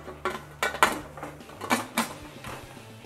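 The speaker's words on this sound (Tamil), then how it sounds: "இப்போ குக்கரை க்ளோஸ் பண்ணி" A pressure cooker lid being closed over banana stem simmering in water, with several sharp metallic clanks and scrapes spaced across a few seconds, close and fairly loud, no talking.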